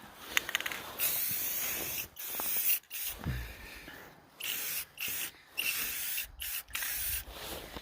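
Spray paint bursts touching up a log loader outdoors, a run of short hissing sprays separated by brief gaps, close and fairly loud with no talk.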